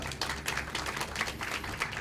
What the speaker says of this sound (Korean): 한번 우리 박수하고 격려하면 좋겠습니다